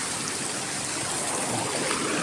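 A strong river current rushes past a wire where debris has snagged beneath the surface, a steady broadband wash of flowing water, loud and close, with no talking.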